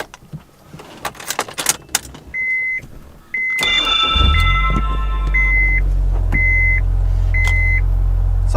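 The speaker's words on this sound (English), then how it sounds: "Gonna go ahead and start up the car." Keys jangle and a warning chime beeps repeatedly before a Honda S2000 cranks and its engine catches, settling into a steady, loud idle close by while the chime continues.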